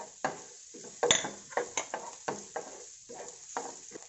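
Onions sauté in olive oil in a pan with a soft sizzle. Repeated sharp scrapes and taps from stirring come close and clear, with no talk.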